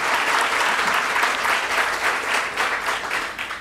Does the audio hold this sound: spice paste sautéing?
no